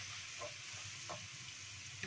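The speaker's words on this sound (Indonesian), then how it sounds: "Nanti kalau udah wangi tuangkan cabai merahnya sama cabai rawit ya." Red chillies and bird's eye chillies fry with fragrant garlic in a pan, a steady faint sizzle with light stirring scrapes, and no talking.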